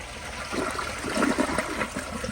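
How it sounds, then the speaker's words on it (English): A 2004 Kohler Highline Ingenium toilet flushes remaining dye from the bowl, a steady rushing swirl of water that holds for a couple of seconds, close and fairly quiet, with no voices. "let me just go ahead and flush the remaining dye out of there"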